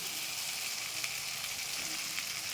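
Pointed gourd (potol) sizzling steadily as it fries in spiced oil in a home kitchen pan, a close, even hiss with a few faint crackles and no talking.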